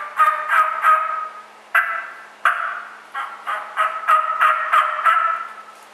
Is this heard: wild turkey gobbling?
yes